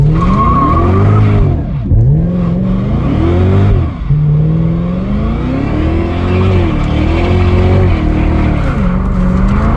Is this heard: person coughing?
no